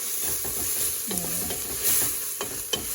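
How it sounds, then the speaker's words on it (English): Onions and celery sautéing for a Moroccan vegetable soup, a steady soft sizzle broken by a few scraping stirs of a spoon through the pan, close and fairly quiet. "saute a little bit."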